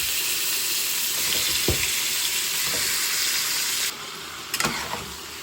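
Chicken pieces fry in hot oil, giving a dense, continuous sizzle close by. A couple of brief utensil knocks and clinks cut through near the middle and the end, and no one speaks.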